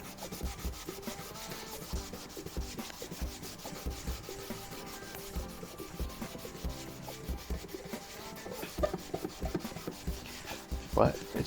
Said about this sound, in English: I'm gonna try a little bit of steel wool on this portion right here.